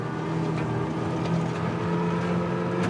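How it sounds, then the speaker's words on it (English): A Solectrac electric tractor strains under maximum load, giving a loud, continuous humming drone with steady tonal layers and no pauses. "Now, as you know, we are pulling this tractor absolutely as hard as we can pull it."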